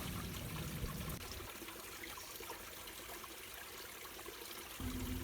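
A small stream flows through Shola forest in the hills near Trivandrum, India, giving a steady, close trickling rush of water with no voices throughout, briefly fuller and lower at the start and the end.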